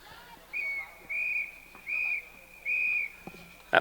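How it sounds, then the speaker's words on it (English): Referee's full-time whistle at a women's Australian rules football match between New York and Boston, four clear sustained blasts, the last one longest, ringing over a quiet crowd with a brief clatter at the end. "it looks like we've got the whistle for full time"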